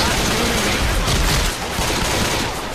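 Dense, continuous gunfire from the video game Left 4 Dead, a loud wash of rapid overlapping shots with no clear gaps between them.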